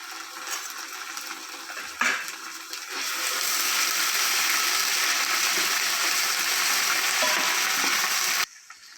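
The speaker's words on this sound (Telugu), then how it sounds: "ఇవైతే మంచిగా ఫ్రై అయినాయండి మంచి కలరు అలానే దీంట్లో అల్లం పేస్ట్ యాడ్ చేస్తున్నాను" Chicken pulao frying with ginger paste just added, a steady loud broadband sizzle that swells after a brief clatter near two seconds and holds until cutting off abruptly near the end.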